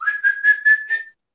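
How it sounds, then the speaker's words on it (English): A person whistles to call dogs, a short sequence of five pulsed whistle notes on a near-steady pitch, close and clear, ending abruptly into silence. "That's the other whistle, because I whistle for the dogs when we let them out in the backyard"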